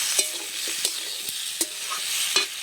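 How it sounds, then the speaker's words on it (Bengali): Potatoes and tomatoes are sautéed in a pan with a soft, steady sizzle, broken by about half a dozen sharp spatula scrapes and taps at an uneven pace. No one speaks. "আলু আর টমেটোটা একসাথে আমি খুব সুন্দর করে কষিয়ে নিয়েছি।"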